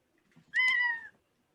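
A cat gives a single clear meow lasting about half a second, fairly close and alone, with faint room noise around it.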